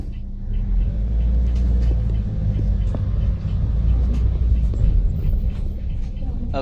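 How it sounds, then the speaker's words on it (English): A car driving through a favela neighborhood produces a steady, loud low engine rumble and road noise, continuous throughout with faint clicks and voices in the background. "now Ok? we're driving."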